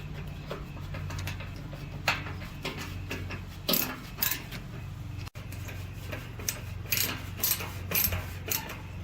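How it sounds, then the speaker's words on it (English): A ratcheting 10-in-1 screwdriver clicks steadily during assembly of a Blackstone griddle, with dense ticking bursts over a constant background hum. "Ratcheting 10-in-1."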